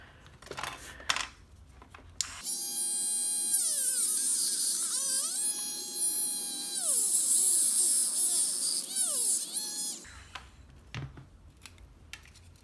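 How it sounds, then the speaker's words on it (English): A Dremel rotary tool cuts a plastic Tamiya Mini 4WD body adapter, giving a loud high-pitched whine for about eight seconds whose pitch dips and rises as the bit bites into the plastic. Quiet handling noises come before and after. "you're gonna use Dremel to remove the most of the side adapter right here"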